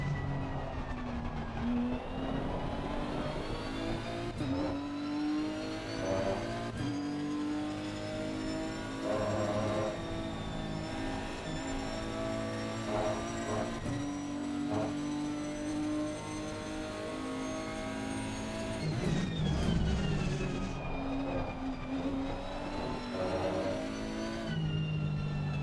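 A Nissan GT race car engine in the Assetto Corsa Competizione racing sim revs continuously, its pitch rising and falling through gear changes and throttle lifts, with a brief tire squeal. The engine is loud, close and steady throughout, with no talk.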